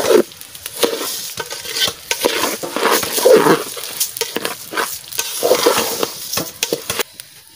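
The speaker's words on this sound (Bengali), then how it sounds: "আস্তে করে চাল দাও যেন চাল ভাজে" Rice is stirred into fried onions in a hot pot for chicken pulao: crisp sizzling under repeated scraping and stirring strokes, close and uneven, with occasional utensil knocks against the pot.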